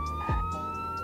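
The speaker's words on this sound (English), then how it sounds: "Turn off my sirens now" A police siren in the roleplay video game Greenville wails steadily with a thin, electronic tone, accompanied by a brief low thump partway through.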